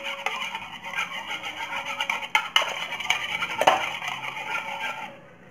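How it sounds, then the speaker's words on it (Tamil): A utensil beating a cracked egg in a bowl for a sponge pudding cake, quick rhythmic metallic clinks and scrapes against the bowl, close and bright, tapering off at the end. "முட்டையை நல்லா அடிச்சுக்கோங்க."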